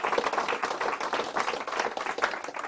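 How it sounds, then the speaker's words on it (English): Audience applause for two volunteers at a live escape artist show, a dense steady wash of many hands clapping at close range and even volume throughout. "Let's have a big round of applause for Jesse and for John."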